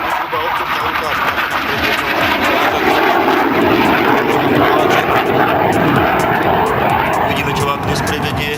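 An Aero Vodochody jet trainer similar to the L-39 flies a display at an air show, its engine roaring loud and steady overhead while a commentator talks over it.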